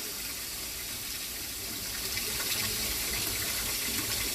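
Water runs and gushes steadily into a slow-draining kitchen sink, a dense continuous rush that grows slightly louder partway through, close and alone.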